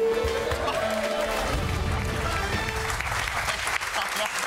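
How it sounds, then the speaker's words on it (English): A studio audience claps and cheers on an Australian sports panel show, a dense, steady wash of applause filling the whole stretch alongside lively talk from the hosts. "always a good sign when you have to clap your own segment"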